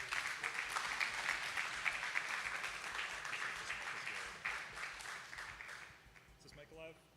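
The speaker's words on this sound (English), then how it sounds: "please give a huge round of applause for Matterforms" An audience at a TouchDesigner meetup claps steadily for a performing act, a dense wash of applause that holds for several seconds and then tapers off, with a few faint voices and handling noises near the end.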